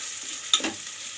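Green chillies and thickly cut onions frying in hot oil for chicken biryani, a soft steady sizzle with a brief stir or clink in the pan, no talking.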